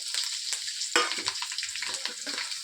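Peanuts and green chillies roasting in a hot pan for a puffed-rice snack, giving a steady close crackling sizzle with stirring scrapes and one louder clatter, no voices.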